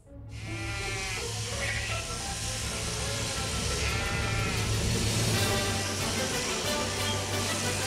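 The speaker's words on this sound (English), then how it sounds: "Now we'll just let these sheep go." A flock of sheep bleats loudly and continuously at close range on a farm near Brisbane, Australia, overlapping calls forming a dense, unbroken chorus with steady background noise.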